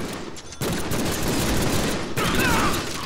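Enemy gunfire in the Deadpool video game on Xbox Series X erupts as sustained, dense shooting, loud and continuous with clatter and metallic pings mixed in.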